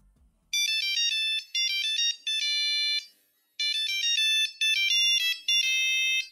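A loud, bright monophonic Nokia 3310 ringtone plays a beeping melody in several short phrases with brief gaps, heard alone.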